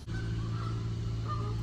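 Geese honk a few times at a distance over a steady low drone of a lawnmower running nearby.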